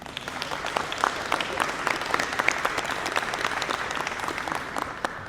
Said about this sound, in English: let's give all of our speakers one last round of applause